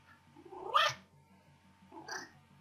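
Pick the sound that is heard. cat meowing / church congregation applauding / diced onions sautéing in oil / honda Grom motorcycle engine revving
cat meowing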